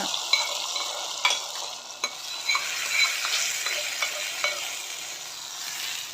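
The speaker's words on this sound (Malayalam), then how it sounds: "ഈ താളിപ്പ് പാൽക്കപ്പയിലേക്ക് ഇട്ട് കൊടുത്ത് നന്നായി മിക്സ് ചെയ്യുക." A coconut-oil tempering with curry leaves being mixed into milk tapioca cooked in coconut milk, soft scraping stirs and light utensil taps over a faint sizzle, close and gentle, no speech.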